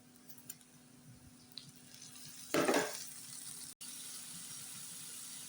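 Onions and ground spices, including turmeric, coriander, chili and cumin powder, frying in a pan for a tomato, potato and dried fish curry; a steady soft sizzle with a sharp louder hiss and stir partway through.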